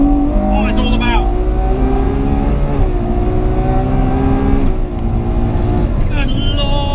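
A 2022 Ferrari 812 Competizione's V12 engine revs hard and climbs through a gear shift at close range, the pitch rising, dipping at the shift and rising again, with someone talking over it.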